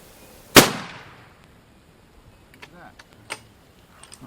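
A single sharp, loud long-range rifle shot fired at a target 5093 yards away cracks and then fades in a decaying echo, followed by faint scattered clicks and a few quiet voices.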